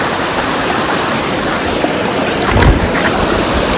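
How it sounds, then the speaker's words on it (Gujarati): A waterfall gushes in a steady, loud broadband rush of flowing water close by, with a brief swell of splashing near the end and no talk. "અહીંથી આપણે એક મસ્ત મજાનો ધોધ પડે છે."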